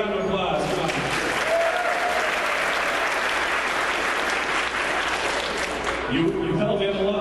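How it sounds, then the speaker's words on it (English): A convention panel audience gives sustained, dense applause, clapping filling the hall for several seconds while voices are faintly heard at the start and end. "Everybody give him a round of applause."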